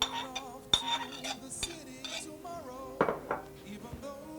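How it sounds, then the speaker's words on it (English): A spoon scrapes and clinks against a bowl while abacha cassava is stirred with red oil, giving irregular metallic taps and rattles, close and fairly clear. "The next step is mixing the Abacha with small red oil"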